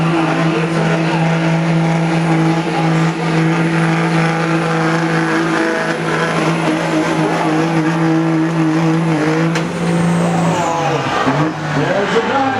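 A modified Dodge truck at a truck and tractor pull roars with a loud sustained engine drone holding a steady pitch, then shifts and falls away near the end, with crowd and announcer noise faintly underneath.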